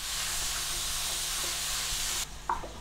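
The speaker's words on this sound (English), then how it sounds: "We're not trying to cook it, we're just trying to brown it off." Filling for curry puffs sizzles and fries steadily in a hot pan while being stirred to brown, a loud continuous hiss with a few scraping stirs near the end as the sizzle briefly drops.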